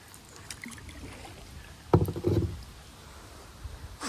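A kayak paddle dips into the Weeki Wachee River, giving a soft splash and a gurgling swirl of water near the middle, with light drips and wind around it.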